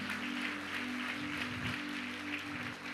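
A church congregation applauding during an evening service, a soft, steady spread of clapping that carries on under a low hum of organ or keyboard tones.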